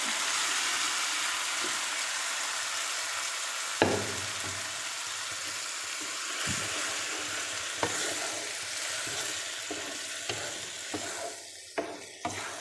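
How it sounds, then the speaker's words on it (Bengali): Boiled bottle gourd tossed into a pan of frying garlic, giving a steady sizzle throughout with occasional sharp scrapes and knocks of a spoon against the pan. "সিদ্ধ করা লাউগুলো দিয়ে দিচ্ছি"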